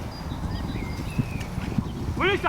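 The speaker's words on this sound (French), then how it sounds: "ils sont botte à botte, côte à côte, ils prennent le galop" Mounted police horses moving side by side during an arrest exercise, with faint hoof thuds under outdoor background noise, a couple of clearer hoof strikes, and a voice speaking toward the end.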